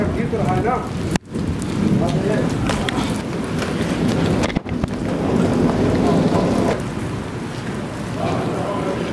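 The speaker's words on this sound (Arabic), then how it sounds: "تسمع برد برد برد" Hail in a Jeddah rainstorm drums steadily on a car, a dense continuous patter with two sharp thuds, while someone talks excitedly over it.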